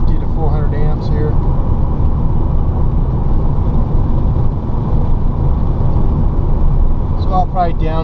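A DIY electric VW Beetle with a Curtis air-cooled controller climbs a neighborhood grade in third gear, drawing heavy current. A loud, steady drivetrain and road rumble runs throughout, with brief whining tones near the start and end.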